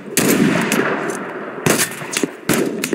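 Gunfire in the World War II game Mud and Blood: three sharp bursts of shots, each loud, close, and followed by a ringing decay, spaced about a second apart with no talk.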